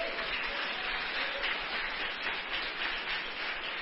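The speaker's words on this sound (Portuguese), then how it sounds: "Você pode aplaudir o nome do Senhor." Congregation applauding during a church sermon, a soft, even wash of many hands clapping that sounds distant and continues steadily with no voices on top.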